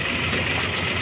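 A tractor engine idles on a village farm track with a steady, loud, low rumbling throb. It runs close and alone, with no talking.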